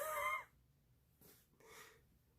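A single loud chicken call, like a short cluck or crow, sounds at the very start, followed by near silence with faint background noise.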